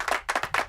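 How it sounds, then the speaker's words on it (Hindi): A classroom of students claps in a short burst of a few quick, close, sharp hand claps, loud and uneven in rhythm. "तालियां बजाओ।"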